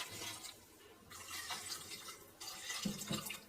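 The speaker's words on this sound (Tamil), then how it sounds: "இப்போ ஒரு 3 கப்பு தண்ணி சேர்த்துக்கலாம்." Water, about three cups, poured over vegetables in a cooking pot for sambar rice: a faint, steady splashing stream with a couple of brief surges, no voices.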